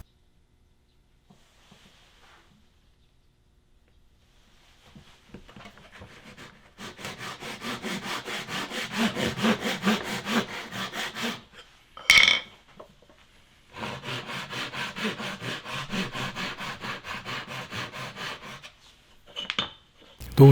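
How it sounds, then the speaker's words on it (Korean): A hand saw rasps steadily through wood in rapid back-and-forth strokes, two long bursts of sawing separated by a brief pause and a sharp knock. "오늘은 톱질해야 할 부분이 정말 많습니다."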